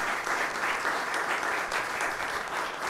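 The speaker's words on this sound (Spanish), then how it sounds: "un fuerte aplauso también para ellos y todos los servidores" A church congregation at an Easter Sunday Mass claps for the singers, a full, steady round of applause filling the space without pause.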